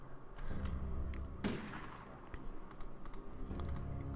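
A single gunshot in the survival game Project Zomboid lands as one sharp burst with a fading tail, set against low background rumble and scattered light clicks.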